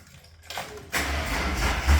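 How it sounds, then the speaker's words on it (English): A Ford Falcon six-cylinder engine with Pacemaker extractors cranks and fires up, a short quiet whir jumping into a loud, rough, steady idle, with no talking. "Hey Ash, come start up my car for me."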